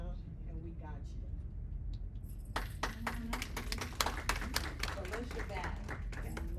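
Scattered audience clapping at an evening women's event picks up after a couple of seconds, a burst of irregular sharp claps running under continuous talking.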